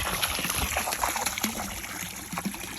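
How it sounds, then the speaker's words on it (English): Water from a garden hose spraying and splashing into a backyard pond, a continuous close trickling, pattering rush with small irregular gurgles and no speech. "now I'm gonna grab that water hose and spray it around"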